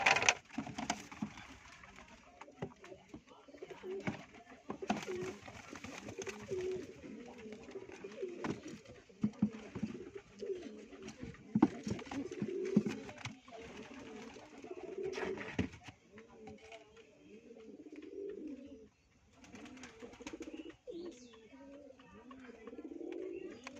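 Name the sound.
pigeons cooing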